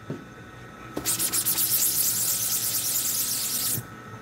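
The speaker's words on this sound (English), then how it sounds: "it smells like WD-40. And you spray this in there." A steady aerosol hiss from a can of WD-40-like cleaner sprayed onto a screen printing screen, one continuous burst of about three seconds starting with a short pulsing sputter, close and fairly loud.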